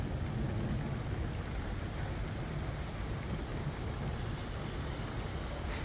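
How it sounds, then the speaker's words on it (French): Steady heavy rain pours during an unexpected thunderstorm, a dense continuous hiss with low rumbling underneath, close and constant with no talking. "j'adore ça, le tonnerre comme ça."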